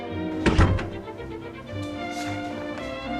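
A single heavy door thud lands close and loud in a film scene, followed by low tonal background sound from the soundtrack.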